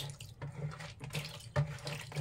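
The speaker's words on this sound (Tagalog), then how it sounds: "Lagyan pa natin ng tubig yan." Tap water runs while making special suman, a steady splashing flow with small irregular spurts, fairly close and moderately soft.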